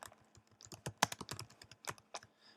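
Text is typed on a computer keyboard while creating artistic text in CorelDRAW, with a quick, uneven run of close, crisp key clicks and a few pauses, no voices.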